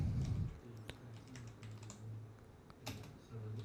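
A computer keyboard is used to type a command at a steady pace, soft clicking keystrokes close and fairly quiet, with a low background hum and no talking.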